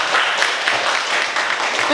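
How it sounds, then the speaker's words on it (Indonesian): Audience applause for SMK Mutu Gondanglegi at a school entrepreneurship workshop in 2020, a steady broadband clapping wash that runs through the whole moment at constant loudness, with voices mixed in. "Tepuk tangan untuk SMK mutu."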